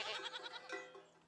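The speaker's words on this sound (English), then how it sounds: "we've got goats everywhere" Goats bleat in a farming and village-building video game, a few wavering, nasal cries in quick succession, faint and alone.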